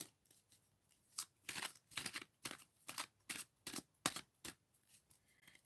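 Tarot cards are shuffled by hand in a quiet room, a run of soft, quick riffling and slapping bursts in an uneven rhythm, close but faint, with no talking.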